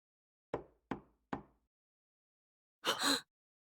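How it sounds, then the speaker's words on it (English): A door in the visual novel Steins;Gate is knocked three times at an even pace, sharp and clear, followed after a pause by a short, louder burst of noise. "There's a knock on the door."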